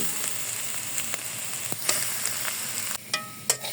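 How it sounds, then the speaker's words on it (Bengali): Mustard greens frying in a pan, with a continuous close sizzle broken by a few sharp clicks and clatters of a utensil. "দেখেন এই যে সরিষার শাক রান্না করছি।"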